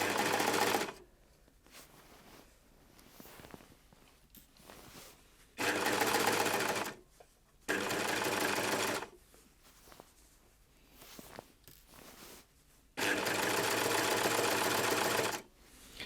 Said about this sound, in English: and then we're going to sew everything into place